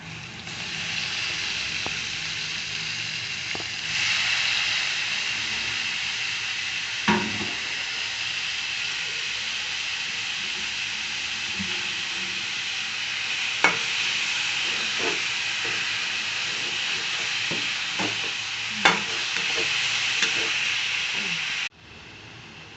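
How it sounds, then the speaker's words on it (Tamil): Marinated chicken fries in a pan for a masala chicken fry, giving a loud continuous sizzle and hiss, with a few sharp spatters and stirring clatters, before it stops abruptly near the end. "மேரினேஷன் பண்ணி வச்சிருந்த சிக்கனை சேர்ப்போம்."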